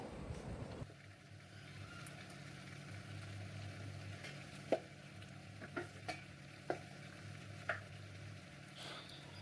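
Chicken and cut potato pieces go into a pan for a chicken kurma, with a low hum and faint sizzle under a handful of sharp, sparse clinks and scrapes of stirring.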